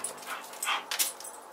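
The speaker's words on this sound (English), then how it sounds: "that is my puppy trying to get my attention to play with her," A puppy whimpers and whines for attention in a few short, high-pitched bursts, fairly close and fairly faint, with no talking.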